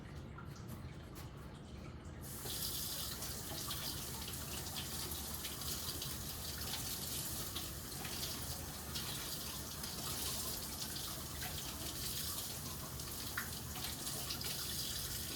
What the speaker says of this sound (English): And I gotta wash these green onions off.